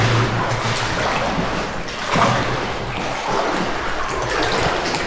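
Several people wade through water inside a limestone mine, producing continuous close sloshing and splashing with a dull, echoing rumble and no talking.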